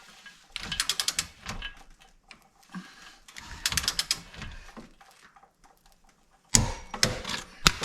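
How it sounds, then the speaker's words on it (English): A ratcheting torque wrench tightens the rear A-arm bolts to 55 foot-pounds on a Kawasaki Brute Force ATV. Three separate bursts of quick, close metallic clicking are heard, with short pauses between them. "These bolts need to be torqued to spec."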